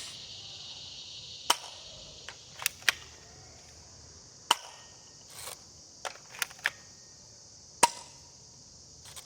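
Manual Glock G19 airsoft pistol by X-Force Tactical firing about ten sharp, crisp shots at irregular intervals over a steady background hiss, fairly close and moderately loud.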